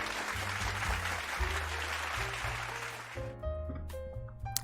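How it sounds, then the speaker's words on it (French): Brief applause at a discussion of military programming law, a short, modest round of clapping under sustained music tones that fades out partway through as the music continues alone. "ça mérite effectivement des petits applaudissements."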